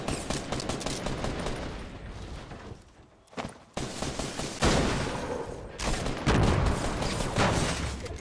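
Rapid bursts of automatic gunfire from a Fortnite match on PC, loud and close, with repeated volleys and short pauses between the shots.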